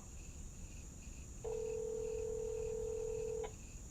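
Telephone call ringing out while waiting for an answer, a single long electronic ring tone of about two seconds, moderately loud over a faint background hum, with no talk.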